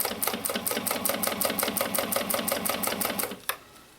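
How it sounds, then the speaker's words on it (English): A sewing machine stitches across a seam while a tote bag is assembled, a fast, even mechanical chatter of repeated needle strokes up close, stopping abruptly near the end. "So sew all the way across the seam."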